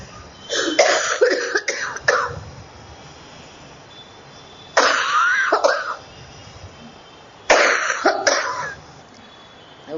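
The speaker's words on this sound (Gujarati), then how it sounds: "ગળું ના પાડે ઉધરસ ખાવાનું નહીં." Three loud bursts of coughing and throat clearing, each lasting about a second or two, separated by quiet pauses with faint background hiss.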